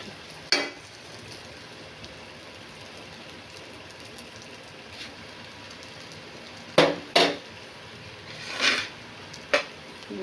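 A soft, constant sizzle of an egg frying in a pan, broken by a few sharp scraping clatters of a utensil.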